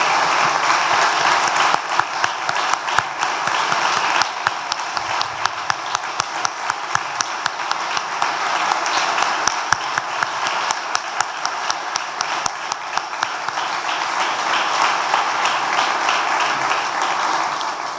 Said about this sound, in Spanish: yo les pido un aplauso para los alfombristas de la plaza